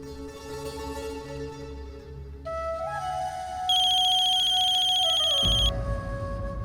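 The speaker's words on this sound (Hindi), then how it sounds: "ये ज़ारा हमें क्यों फोन कर रही?" A phone rings with an incoming call in an indoor household scene, a bright electronic ringtone melody that steps up in pitch and grows louder before cutting off, with a low thump at the end and no talk.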